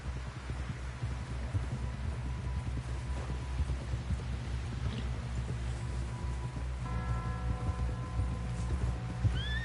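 A horse is ridden at a steady pace into a camp in a Red Dead Redemption 2 game scene, its rhythmic hoofbeats thudding on the ground throughout, with a snort or whinny near the end over a low ambient bed.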